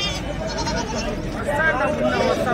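Goats bleat repeatedly amid a bustling weekly livestock market in Kadiri, with crowd chatter and voices of traders mixing under the animal calls.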